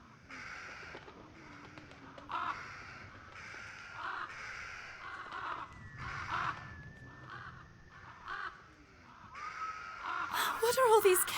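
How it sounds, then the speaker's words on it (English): In the video game Remothered: Broken Porcelain, crows give harsh caws in a repeated rhythm of distinct calls, ending in a louder, noisier burst. "What's with all the birds?"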